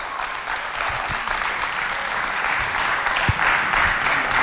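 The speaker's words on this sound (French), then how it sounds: "Applaudissez pour lui." An audience applauding a student speaker at a youth event in Chad, with steady, dense clapping from a crowd that holds evenly throughout, audio band-limited and slightly muffled.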